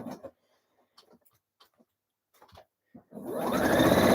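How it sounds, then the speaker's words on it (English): A sewing machine re-stitches a seam on a blouse, its motor whirring up to a loud, steady, rapid stitching drone after a stretch of scattered small clicks and handling noises. "Let me just re-sew this little bit"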